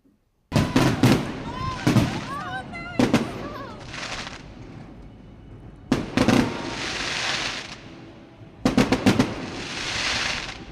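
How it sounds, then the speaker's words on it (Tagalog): Fireworks from a wedding celebration at a beach resort in Calatagan go off in several loud bursts of rapid cracks and bangs, each followed by crackling fizz, with quiet gaps between volleys. "May pa-fireworks din sila. Iba't ibang fireworks yung pinakita nila."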